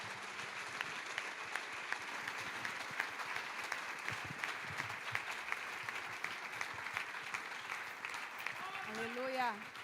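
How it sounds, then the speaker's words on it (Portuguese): Sustained crowd applause at a church worship service, dense and steady throughout, with a voice rising briefly near the end. "Aplauda Jesus mais uma vez"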